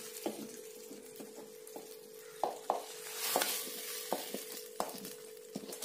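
Vadagam tempering sizzles in hot oil for drumstick leaf sambar, a quiet, steady crackle with a constant hum and scattered sharp pops and spoon taps.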